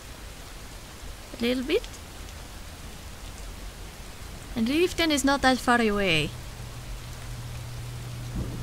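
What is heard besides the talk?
rain and thunder in a video game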